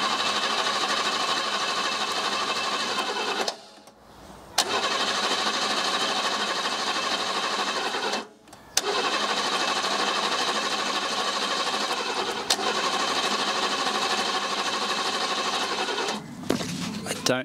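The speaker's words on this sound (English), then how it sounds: "May just need to keep cranking some more though." A barn-find BMW engine cranks over and over on a jumper pack without catching, a steady mechanical churning broken by three short pauses before it resumes.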